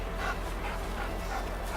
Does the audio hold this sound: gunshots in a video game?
no